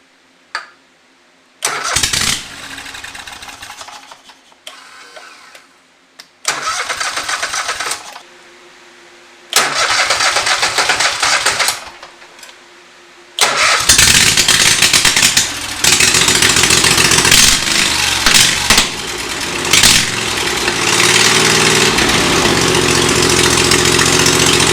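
A Kohler engine on a Scag Tiger Cub mower, swapped in for the original Kawasaki, cranks in several short bursts before catching and settling into a loud, steady close-up idle.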